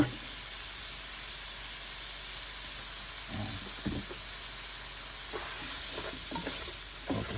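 Oil sizzles steadily in a pan while Cajun chicken and shrimp fry, a constant close hiss with a few soft stirring knocks and scrapes.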